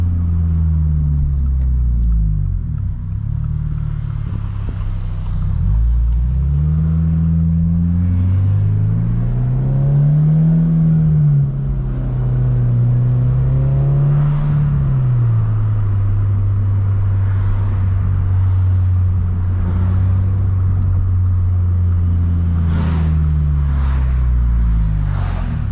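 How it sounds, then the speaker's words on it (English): A Subaru BRZ tS sports car engine hums with a low, steady exhaust note while driving, rising and falling in pitch as it speeds up and settles, loud and close throughout. "it's not like the loudest exhaust, but the sound is still there."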